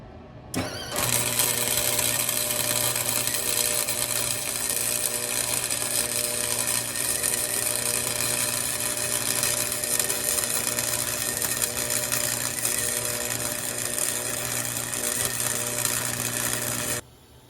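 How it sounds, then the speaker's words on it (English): A welder lays a bead on a broken shock mount of a Suzuki Samurai, a close, loud, steady crackling hiss that starts abruptly and runs without a break for about sixteen seconds before cutting off. "weld that other side."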